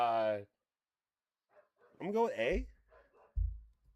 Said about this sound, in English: Oh my God, my dog going crazy.